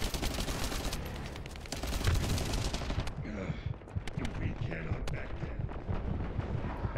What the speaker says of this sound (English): Okay, I'm just gonna shoot.